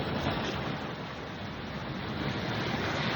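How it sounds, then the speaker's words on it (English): Ocean waves crashing on a shore, heard as a steady, dense wash of surf with no distinct breaks, fairly quiet and continuous throughout, with no talking. "Man, these waves are getting vicious."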